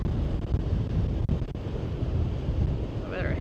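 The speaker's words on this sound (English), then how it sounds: "The wind just picked up." Gusting wind buffets the microphone aboard a boat cruising a river toward a drawbridge near Lake Michigan, a steady broadband roar with faint water wash beneath and a brief voice near the end.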